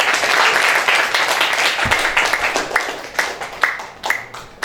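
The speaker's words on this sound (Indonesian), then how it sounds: "Tepuk tangan ke kiri." Students in a classroom clap together, a dense burst of applause that thins into sharper, spaced individual claps toward the end, near and clear.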